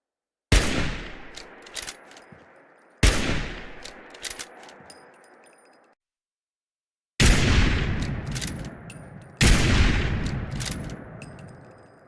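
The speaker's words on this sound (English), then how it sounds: "Starting off with our weirdly left-handed bolt-action rifle, chambered in .308, featuring options for .38 and .50 caliber, which comes with its own firing sound" A .308 bolt-action hunting rifle firing in Fallout 4: four loud, close gunshots, each a sharp crack with a long echoing tail, the first two about two seconds apart, then silence, then two more in quick succession.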